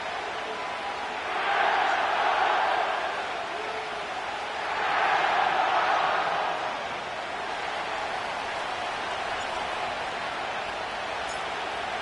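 In the Madden NFL video game, a stadium crowd at SoFi Stadium in Inglewood, California, roars in two swelling waves of cheering over a steady bed of crowd murmur, at moderate loudness.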